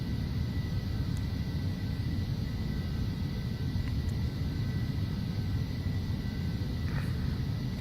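Steady, loud broadband roar inside the cabin of a Phenom 300 business jet cruising at altitude around 25,000 feet, an unbroken engine and airflow drone with no breaks or voices.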